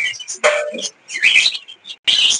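Albino cockatiels and other pet birds in a bird shop give several short, bright chirps and whistles in separated bursts, close to the microphone and with no talk over them.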